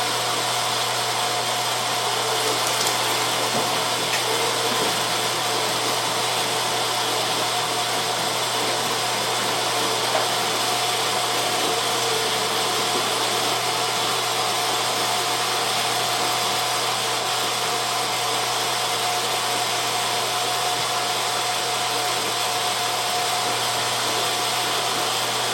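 A meat grinder runs steadily, grinding wild game such as deer, elk or moose through a medium grinding plate, producing a constant loud motor whine and hum with no breaks or voices.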